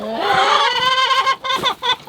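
Chickens cluck and squawk close by in a loud, harsh burst of overlapping calls, breaking into short choppy bursts toward the end.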